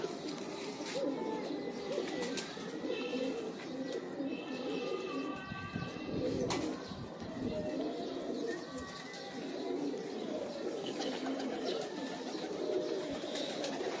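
Old-breed Chosha pigeons of the Sakhi Bhatti line keep up a low, continuous cooing chorus at moderate distance, with faint voices mixed in.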